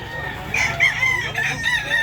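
A rooster crows nearby, its strained call stretching across a couple of seconds over low background noise.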